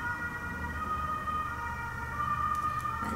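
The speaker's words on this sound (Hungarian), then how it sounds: "mentő." Ambulance siren sounding steadily at a distance, a sustained tonal wail over low road noise, fairly faint and alone without talk.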